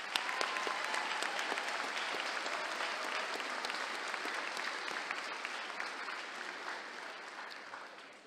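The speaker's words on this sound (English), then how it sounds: "Let us start by giving the graduating class a well-deserved round of applause for this incredible achievement." Sustained audience applause for a graduating class at a December 2024 fall commencement ceremony, a dense, steady wash of many hands clapping in a large venue, holding throughout and tapering slightly at the end.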